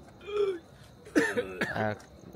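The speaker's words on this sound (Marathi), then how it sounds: "डेकर आणि खोकला दोन्ही एकसाथ आलेला आहे" A burp and a cough come out together after a big meal: a short throaty belch followed by two rough, close coughing bursts, moderately loud in a quiet room.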